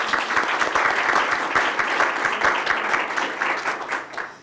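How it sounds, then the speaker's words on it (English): Audience applause at a school district and university news conference, dense and sustained for over four seconds before fading at the end, loud and close, with no voices over it. "Let's give them another round of applause."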